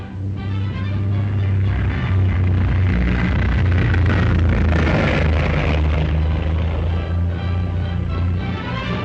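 A de Havilland Heron propeller feeder airliner flies at the 1950 Farnborough air show, making a loud, steady engine drone with a deep low hum that holds throughout.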